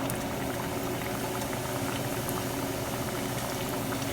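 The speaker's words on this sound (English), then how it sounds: "Fry the samosa until it's golden brown." Rava samosa deep frying in oil over a low flame gives a dense, even bubbling hiss that stays steady and fairly quiet throughout, with no talk.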